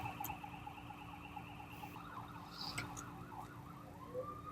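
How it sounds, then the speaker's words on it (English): Emergency vehicle siren wailing as it passes by, its rising and falling tone sweeping repeatedly at moderate distance with steady traffic noise underneath, no talking. "we're going to hear sirens coming by right now"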